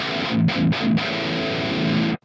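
Chunky, heavily distorted metal electric guitar tone from a Mesa Rectifier-style amp model in BIAS FX on an iPhone: a few short palm-muted chugs, then a sustained ringing chord that cuts off abruptly, loud and alone.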